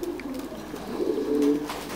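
Thai Titan meat pigeons coo softly at a farm in Đắk Lắk, Vietnam, with a few low rolling coos close by, growing slightly louder toward the end, alone without talk.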